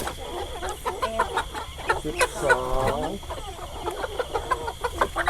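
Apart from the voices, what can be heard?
chickens clucking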